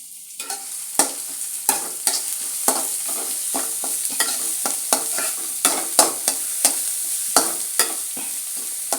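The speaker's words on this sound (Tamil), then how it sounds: "நல்லா வதக்கிக்கணும்" Vegetables are sautéed in a pan for a quick uttapam batter, with a continuous sizzle broken by regular scraping and tapping strokes of a spatula, close and fairly loud, with no talking.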